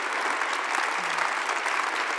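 A studio audience at a televised show breaks into steady, dense applause that holds at an even level throughout, with no talk over it.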